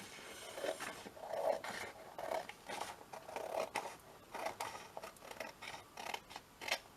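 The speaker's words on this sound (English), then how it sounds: "I'll use my scissors" Quiet, close scissors snip through leather repeatedly in an uneven rhythm, each cut a short crisp crunch.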